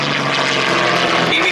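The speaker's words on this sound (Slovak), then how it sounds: "imitujú aj pozemné útoky, ktoré väčšinou vykonávali bitevné lietadlá IL-2, známe šturmoviky." Propeller-driven warplanes with red-star markings fly mock IL-2 Shturmovik ground-attack passes at a tank display event, producing a loud, continuous, close engine roar that fills the whole moment.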